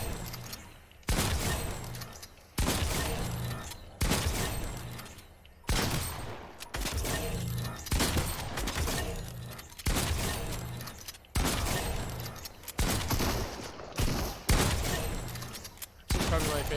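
Repeated bursts of gunfire in a video game aim-training session, loud and closely spaced, each shot a sharp broadband crack with short decay, firing in irregular volleys across the whole stretch.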